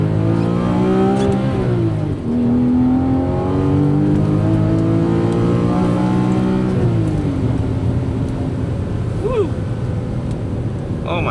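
A Porsche 981 Boxster S with six-speed manual gearbox revving, its engine tone climbing and falling in long smooth sweeps, loud and close, steady throughout, with a voice briefly heard near the end.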